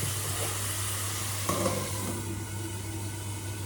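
Oil sizzling steadily in a pan, close and continuous, with a brief stirring clatter midway; shrimp frying in oil.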